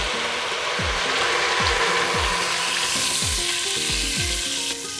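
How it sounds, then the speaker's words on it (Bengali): Water poured into a pan of fried masala for a village-style chitol fish kofta curry sets off a loud, steady sizzle, with repeated scraping strokes of a stirring spoon. "এবার আমি তরকারি ঝোলের জন্য 1 কাপ জল দিয়ে দিব।"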